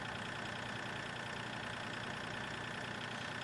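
Steady engine idle of a farm vehicle in Farming Simulator 2013, a continuous broadband rumble holding even and loud throughout with no speech.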